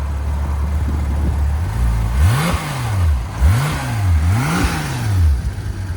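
A 2018 Porsche 911 GT3 RS 4.0L flat-six with a custom X-pipe and straight pipes idles, then is blipped in four rising and falling revs, close by and with no talk.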